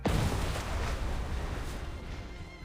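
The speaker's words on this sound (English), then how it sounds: "A deafening explosion drowns out the music and ensuing screams." A deafening explosion in an audio drama bursts loudly at the start, then rumbles and decays into a long, noisy roar that slowly fades.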